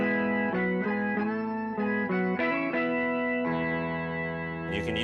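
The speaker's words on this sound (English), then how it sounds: "The coolest effect you can get with a POG is an organ sound." Electric guitar runs through an Electro-Harmonix POG octave pedal set for an organ-like tone. Several chords change in quick succession with smooth, swelling sustain, then one final chord is held steady. No voices are heard.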